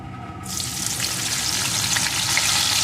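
Chopped onion dropped into hot oil with dried red chilli and nigella seeds, a loud sizzle bursting in after a brief quiet start and then holding steady and close.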